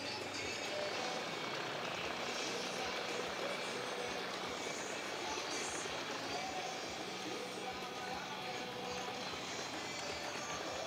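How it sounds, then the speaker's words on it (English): Kitfox S7 Speedster light aircraft performing at an air show, a steady, loud broadband engine and wind roar filling the whole stretch with no clear rise or fade. "Beautiful aileron roll in the Kitfox S7 Speedster."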